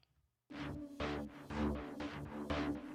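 A distorted synth pulse from the Bioscape instrument by Luftrum starts after a brief silence, throbbing in regular gritty bursts about twice per second, each swelling and fading, played alone.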